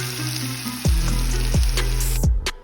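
Sea scallops sear in a hot pan with a steady, loud sizzle, broken by several sharp low thumps where the pan is handled; no voices.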